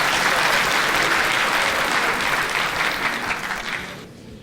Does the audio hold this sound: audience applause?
yes